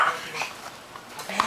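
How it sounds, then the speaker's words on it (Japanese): A short, sharp dog bark near the end of a quiet moment, preceded by faint clinks and soft background noise. "ワンワン言わないの"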